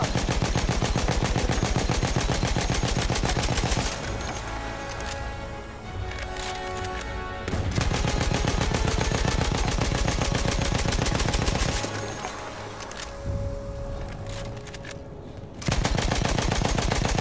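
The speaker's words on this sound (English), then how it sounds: "Oh, fucking shoot at it! On the horn, bomber!" Machine gun fire at a bomber in the video game Battlefield 1, loud sustained rapid bursts broken by two short pauses, dense continuous rattling with no talk.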